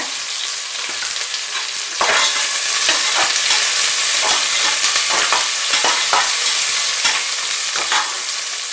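Curry leaves drop into onions frying in hot oil for mushroom biryani, setting off a louder, denser sizzle that continues steadily, with repeated close spatula scrapes against the pan in an uneven rhythm and no voices.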